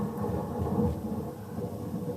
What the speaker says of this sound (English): there's a continuous tape running of a recording of a thunderstorm that I made many years ago